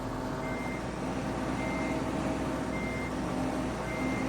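Skid steer pushing snow in Farming Simulator 17, a steady engine drone with a constant low hum and periodic faint reversing beeps, continuous and moderately loud with no talk.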